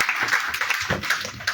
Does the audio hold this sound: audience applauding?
yes